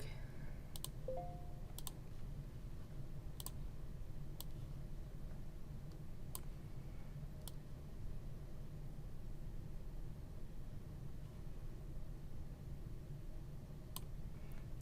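Sharp, quiet computer mouse clicks scattered irregularly across a low steady hum while working in the Wick Editor, each click a brief isolated tick with long gaps between.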